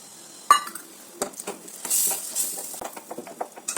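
Ghee-enriched Ashoka halwa stirred in a pan, with scraping strokes and small clinks of a spoon against the metal, plus a soft sizzle, close and moderately loud.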